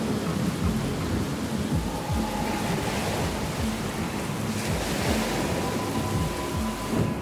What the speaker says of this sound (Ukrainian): океан вибухнув шаленим штормом